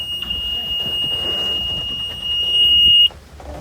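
A Cobalt 200 boat's ignition-on warning alarm sounds as one steady, piercing high tone for about three seconds, then cuts off, over low engine and ambient rumble.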